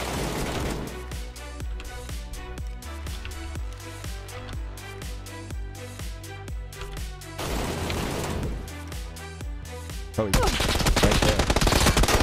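Rapid bursts of gunfire from PUBG, dense repeated shots crackling over a steady music bed, with a louder, harsher volley near the end.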